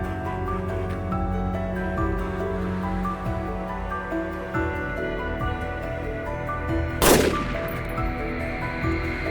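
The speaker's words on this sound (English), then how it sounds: "Only after a barrage of continuous fire did we finally manage to take down this" Barrage of gunfire during a wild boar hunt, with one loud, close shot standing out sharply above a steady outdoor background of rustling and distant noise.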